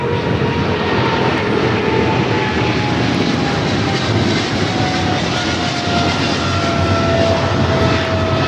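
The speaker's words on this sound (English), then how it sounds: "DHL, operated by Polar Air Cargo 718, taking off to Cincinnati on the 777 freighter." A DHL Boeing 777 freighter operated by Polar Air Cargo takes off from LAX bound for Cincinnati, its jet engines producing a loud, sustained, close roar with a faint whine, steady from start to finish.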